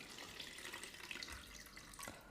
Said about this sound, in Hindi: अब यहाँ पर हम इसका पानी रिमूव कर देंगे